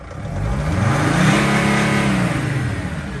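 A 2004 Mercedes Sprinter van engine, warmed to operating temperature and suffering slow acceleration, revs up to about 4,000 RPM and back down in one smooth, close, loud sweep lasting a few seconds.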